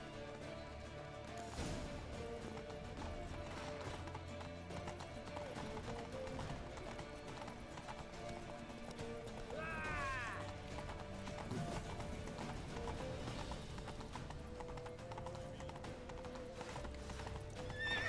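Rapid hoofbeats of galloping horses drum on continuously in The Witcher 3: Wild Hunt, with a horse neighing midway through, set within a busy game soundscape.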